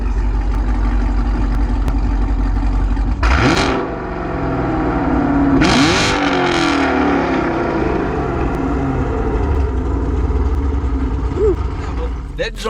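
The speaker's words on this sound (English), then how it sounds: "He on there with the new Corsa Extremes or whatever, man. Gave us a nice little good rev on it too." A car fitted with a Corsa Extreme exhaust revs loudly nearby, with two sharp throttle blips rising over a deep idling rumble and people talking faintly underneath.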